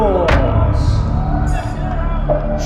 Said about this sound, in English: Audience members, can we have a round of applause?